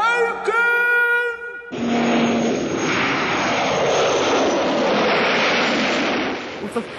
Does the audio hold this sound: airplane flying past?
yes